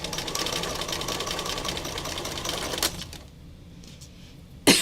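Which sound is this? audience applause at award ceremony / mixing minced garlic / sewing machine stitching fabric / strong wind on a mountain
sewing machine stitching fabric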